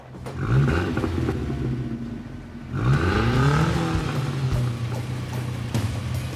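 A car engine revs up and keeps idling in a steady low rumble, with a second sharp rev midway through, close and fairly loud with no talk over it.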